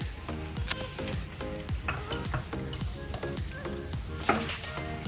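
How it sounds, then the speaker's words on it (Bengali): Sliced onions fry in a little oil in a kadai for a Bengali fish paturi, giving a soft, steady sizzle broken by repeated clinks and scrapes of a stirring spoon against the pan. "দেখো এখন আমি পাতুরির জন্য আগে পেঁয়াজগুলোকে ভেজে নেব।"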